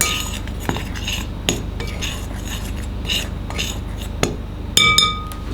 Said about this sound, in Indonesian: Kita aduk sampai semua tercampur rata.